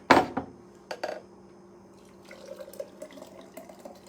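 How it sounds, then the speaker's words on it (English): A citrus seltzer mocktail with celery bits is poured into a pitcher, starting with a sharp clink and splash, then a light, trickling pour with small drips. "going to carefully pour it into a pitcher."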